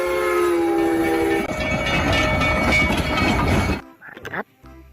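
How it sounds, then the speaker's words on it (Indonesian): A toy train plays its recorded sound effects: a sustained horn tone at first, then a loud rattling clickety-clack of wheels, cutting off abruptly near the end before a short burst of a voice. "Wis, kereta api."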